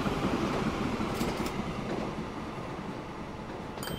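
A high-speed train running at about 130 in the Train Fever game gives a steady rolling rumble with faint wheel clatter and a few brief high squeals, alone and fairly close.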